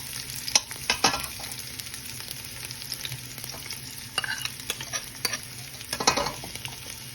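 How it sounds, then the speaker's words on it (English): A medium onion sautés in a pot over lowered heat, giving a steady soft sizzle with occasional stirring scrapes and clicks. "I'm going to add 1 medium onion. And let it saute."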